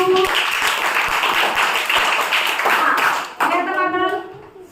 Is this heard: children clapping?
yes